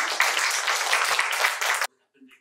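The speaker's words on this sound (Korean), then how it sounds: "박수 한번 주세요" Audience clapping at a talk concert, a dense burst of applause from a crowd that runs steadily for nearly two seconds and then cuts off abruptly into near silence.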